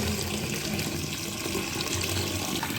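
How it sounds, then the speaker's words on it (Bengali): Tap water runs steadily while chalta fruit is washed, a constant close splashing rush with no talk. "আমি এবারে চালথাটা ধুয়ে নেব ভালো করে।"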